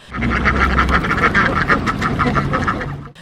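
Ducks quack in a rapid, close, busy series, their calls overlapping with no speech.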